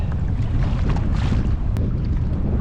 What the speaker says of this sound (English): I am now at anchor. Cool, that tide is ripping through.